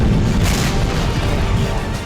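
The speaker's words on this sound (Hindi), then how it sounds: "देखिए कैसे एक के बाद एक धमाके हो रहे हैं" Bunker buster bomb explosions from an Israeli air strike on Hamas tunnels and bunkers: loud, dense booming rumble, sustained and heavy with repeated low blasts merging together, no voices.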